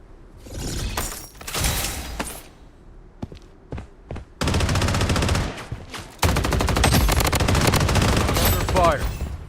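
Video game gunfire rings out in loud, close bursts: scattered single shots and short volleys first, then long sustained rapid-fire stretches with sharp cracks and shattering impacts, and no speech.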